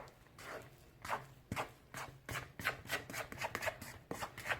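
Yeast doughnut dough being mixed by spatula in a bowl: a series of soft, scraping, slapping strokes in an uneven rhythm, close and fairly quiet, with no talking.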